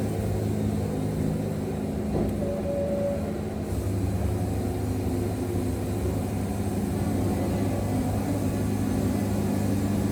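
A Woodmizer LT70 sawmill motor cutting through hard hickory, a continuous low droning hum with steady tonal bands, loud and unbroken throughout with no talk.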